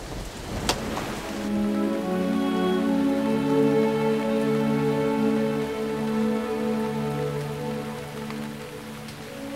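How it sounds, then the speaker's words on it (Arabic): Steady rain falls as a constant hiss after a sharp knock at the start, with a sustained, droning tonal layer running over it for the whole stretch. "الدنيا بتشتي"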